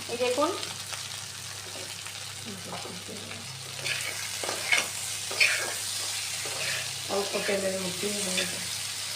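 Okra (bhindi) hisses softly in hot oil as a spatula stirs it around the pan, with scraping strokes coming in uneven bursts over a continuous low sizzle.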